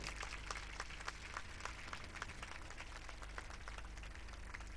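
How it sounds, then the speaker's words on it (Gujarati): Applause at a temple anniversary festival gathering in Adipur honouring two women's painting, heard as a steady, fairly faint wash of clapping across a large crowd with no speech. "ફરી એકવાર જોરદાર તાળીઓથી વધાવજો."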